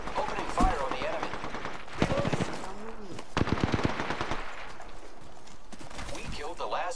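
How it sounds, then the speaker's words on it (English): Rapid automatic gunfire from the Apex Legends video game rattles in dense bursts throughout, mixed with game effects and voiced callouts talking over the shooting. "Opening fire on the enemy"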